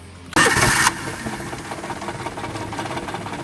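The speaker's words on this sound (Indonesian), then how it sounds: "Coba bunyiin mesinnya ya." A 2003 Daihatsu Ceria small car engine cranks briefly with a loud starter whir, catches and then settles into a steady, close idle.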